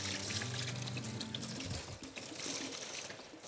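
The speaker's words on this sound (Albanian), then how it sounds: "Po e lash një çik kështu në ujë." Rice being rinsed in water at a kitchen sink, with a steady, fairly loud flow of running tap water that fills the whole stretch alongside faint splashing.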